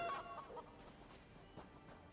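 A chicken in the video game Elder Scrolls Online gives a few soft, short clucks close by, scattered over a quiet background with no talking.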